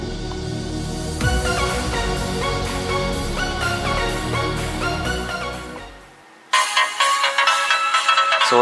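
A phone ringtone plays through the speaker of a Redmi Note with audio gain set to zero, a bright looping melody that fades out briefly before restarting loud and clear, with no voices.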